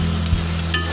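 Bitter gourd curry with fried koi and tilapia fish, onion and garlic paste cooks in a pan, producing a brief, close burst of sizzling with stirring scrapes.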